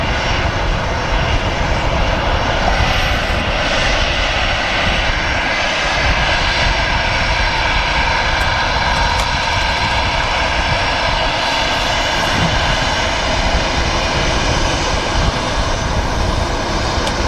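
A Jet2 Boeing 757 comes in to land at Manchester Airport, its engines producing a loud, steady roar that holds without a break, broad and sustained.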